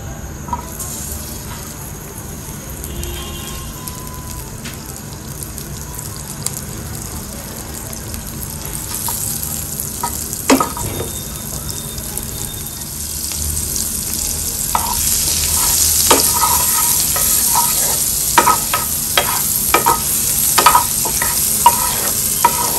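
Butter frying in a pan before soya sausages go in: a sizzle that builds slowly and grows louder and more crackly over about twenty seconds, with scattered sharp pops and utensil taps and no talking.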